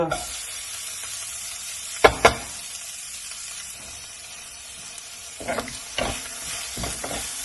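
Grated carrot and fresh corn sautéing in a pan for a vegetable omelette, with a steady low sizzle broken by a couple of sharp utensil knocks and several scraping stirs.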